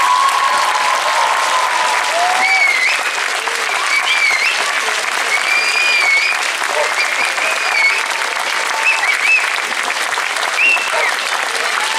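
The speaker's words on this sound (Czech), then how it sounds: "to člověka potěší víc než opravdu vřelý potlesk od lidí, kteří vás mají rádi" Sustained, loud applause from a large audience at a bagpipe show, even and continuous throughout, with scattered whistles and cheers rising above the clapping.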